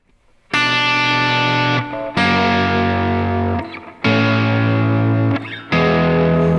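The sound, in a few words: electric guitar hitting chord's third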